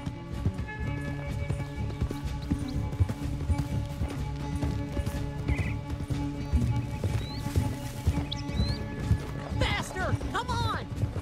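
A horse gallops in Red Dead Redemption 2 with a fast, continuous clip-clop of hooves under steady game sounds, with a few whinny-like cries near the end.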